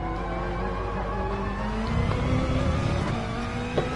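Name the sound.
race car engines in a racing video game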